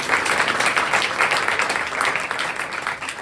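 Audience applause at a live Hindustani classical music concert, with sustained clapping from a crowd heard steadily throughout, fairly loud and close.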